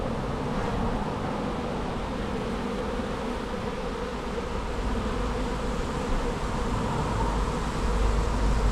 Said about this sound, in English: there are returning bees that are flying straight back to kind of roughly the right location